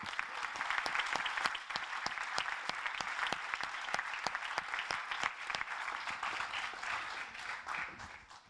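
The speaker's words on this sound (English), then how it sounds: "So thanks again to the team, and well, round of applause" A student project presentation audience claps for the team, a sparse group of distinct, fairly steady hand claps that continue for several seconds before tapering off.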